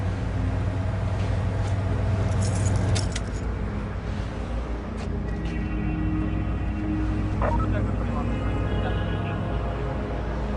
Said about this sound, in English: Turn off the vehicle.